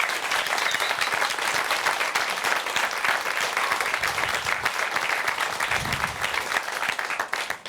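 An audience applauds members of the Umani association, a dense, steady wash of clapping from a crowd that holds evenly throughout before easing slightly at the end.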